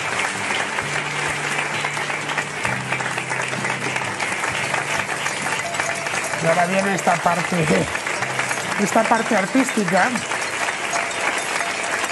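Sustained crowd applause at a political rally in Spain, steady and dense throughout, with someone speaking over it in the second half.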